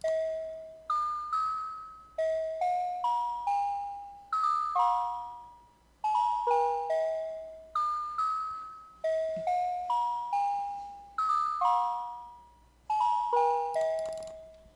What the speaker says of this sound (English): kind of like a bell pluck sound